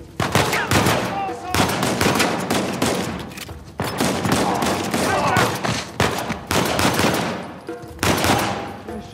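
Uncharted 4 video game gunfire, with sustained automatic bursts and rapid shots rattling loudly and almost continuously, separated by brief pauses.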